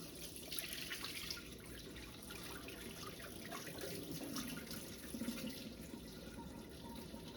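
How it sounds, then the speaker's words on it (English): Hot water runs and splashes steadily from a pot of boiled eggs into a sink, a continuous close pour with small drips and gurgles throughout. "I'm going to pour as much of this hot water off as I can."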